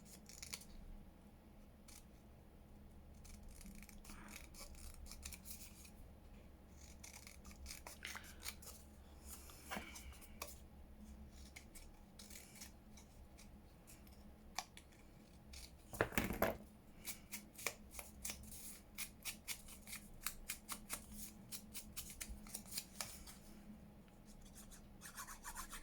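Scissors snipping and trimming masterboard paper close up, a long run of quiet crisp cuts and rubbing paper sounds, with a sharper rustle partway through and no talking.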